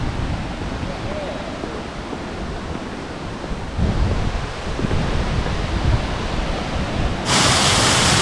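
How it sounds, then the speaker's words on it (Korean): Small waterfall in Seogwipo, Jeju, a continuous rushing and splashing water noise heard up close, steady throughout with occasional wind buffeting the microphone. "폭포가 있긴 있네요"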